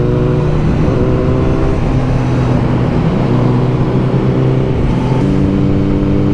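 A sport motorcycle, a Kawasaki Z900 or first-generation Suzuki Hayabusa, accelerates hard at full throttle, its loud engine note climbing in steps through several gear changes with no talk.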